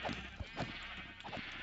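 Sheep in the Minecraft video game bleat several times in short, separate cries over a constant buzzing background hum.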